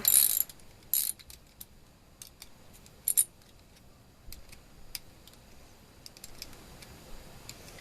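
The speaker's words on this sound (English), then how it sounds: "This is the same 8mm nut here. So just undo that." A ratchet clicks as an 8mm nut comes off a freezer evaporator fan motor: a few sharp, close bursts of clicking separated by lighter scattered ticks, with no talking.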